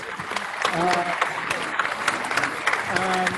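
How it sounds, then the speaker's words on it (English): A small audience at a live talk event gives a round of applause for an online participant, steady clapping lasting a few seconds, with voices talking over it. "We'll give you a round of applause."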